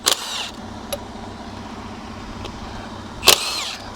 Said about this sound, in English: I'll leave the tractor running for safety